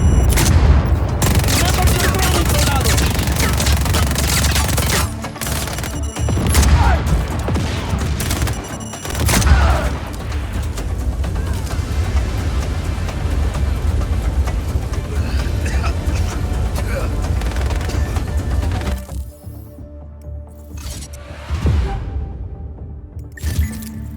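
Cannon fire and explosions rumble through a Just Cause 4 battle, with heavy booms and rapid gunfire bursts packed densely together, loud and continuous before thinning out near the end.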